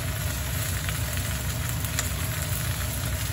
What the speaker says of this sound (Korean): 이제 숨이 죽을 때까지 좀 볶아줍니다.